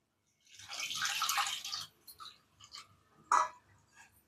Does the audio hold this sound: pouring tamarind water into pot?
yes